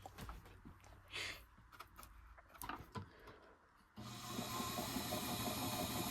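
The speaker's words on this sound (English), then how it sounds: "so that I can hear the sound of the machine now." A Viking model 8933 sewing machine, freshly cleaned and oiled, starts up partway through and runs with a steady, loud mechanical whir after some quieter handling clicks.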